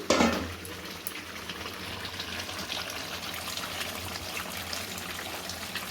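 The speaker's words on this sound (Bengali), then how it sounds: "সেই জলটা দিয়ে দিচ্ছি।" Hot water being poured into a chicken curry in the pan: a brief splashy burst at the start, then a steady bubbling, hissing simmer close by, fairly quiet and continuous with no talking.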